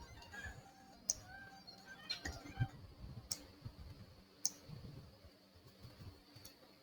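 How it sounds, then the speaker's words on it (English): Computer mouse clicks while setting up a GitHub-to-Jenkins webhook: a few sharp, faint, widely spaced clicks over a quiet background hum. "click on this job"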